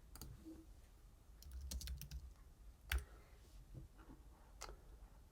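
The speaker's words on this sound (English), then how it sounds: "go to the Windows search bar and type git bash" Keystrokes on a computer keyboard entering a short phrase into the Windows search bar, a quick run of light clicks with a few brief pauses, quiet and close with no voices.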